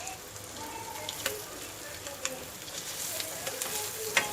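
Egg masala with coriander sizzles steadily in a pan, a continuous crackling fry broken by a few sharp spatula scrapes and taps, close and fairly quiet with no talking.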